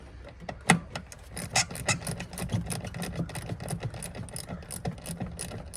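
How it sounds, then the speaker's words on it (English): A ratchet loosens bolts on the air intake pipe of a Toyota Tacoma, clicking in rapid close bursts with a sharper knock early on, and no one speaking. "I'm gonna go ahead and loosen these bolts on the little intake pipe."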